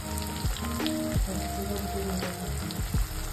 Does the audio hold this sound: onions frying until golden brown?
yes